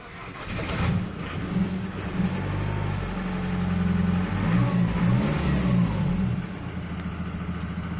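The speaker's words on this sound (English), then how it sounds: "let's start the vehicle and we'll see what we get" Ford Mondeo 2007 2.0 TDCi diesel engine, suffering from excessive smoke, running steadily with a low rumbling drone that rises in a few revs, close and loud throughout with no talk.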